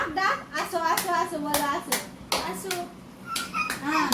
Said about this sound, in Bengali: হাততালি দে হাততালি দে